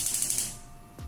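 A range cooker knob is turned to switch it on, giving a quick run of ratcheting clicks, close and dry, then a short pause and a soft thump.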